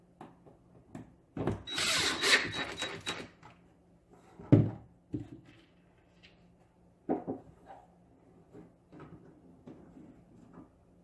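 Power drill driving an H7 screw to attach a ball catcher during furniture-style assembly, one loud burst of whirring followed by shorter, sharper knocks and clicks of handling parts, close by, with quiet gaps between.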